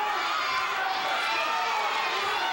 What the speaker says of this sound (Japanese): 湧き上がる歓声の中